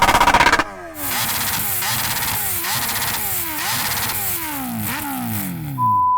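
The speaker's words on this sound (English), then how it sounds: "Let's have a listen to the bikes. Can you rev up your bike?" A Kawasaki H2R or Ducati Panigale SP2 sport motorcycle revs hard and close by. After a brief opening burst, the engine climbs and drops in repeated rising sweeps, loud and sustained throughout.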